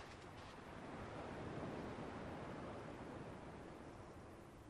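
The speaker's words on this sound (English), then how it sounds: "At least the waves sound the same." Ocean waves washing on a beach in the video game Kingdom Hearts 2, a steady soft rushing surf, faint and continuous without voices.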